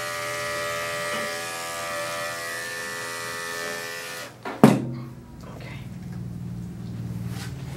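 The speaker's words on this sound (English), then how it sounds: "so we're going to shave all that out" A groomer's electric clippers shave matted fur from a dog's coat, giving a steady, close harmonic buzz for about four seconds before cutting off with a sharp thunk and quieter rustling.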